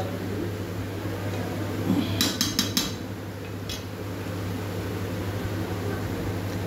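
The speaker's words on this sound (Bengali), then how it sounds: "তো আলু দিয়ে ভালো করে কষে নিচ্ছি।" Potatoes stirred and fried in a pan at home, steady sizzle under a quick burst of spatula clinks and scrapes against the pan, then more sizzling with one later scrape.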